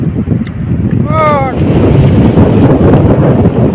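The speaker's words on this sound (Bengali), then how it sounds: "হাওয়া দিচ্ছে বাপরে" Strong wind roars across an open village field on a hot afternoon, buffeting the microphone in a loud, steady rush, with a brief rising call cutting through early on.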